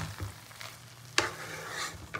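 Basanti pulao being stirred in a pot with a spoon, soft scraping and shuffling of rice in a few quiet strokes, one sharper scrape near the middle, over a faint low sizzle.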